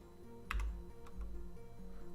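Typing on a recently switched computer keyboard, a few sharp key clicks and clacks scattered over two seconds, close and fairly quiet with a low hum underneath.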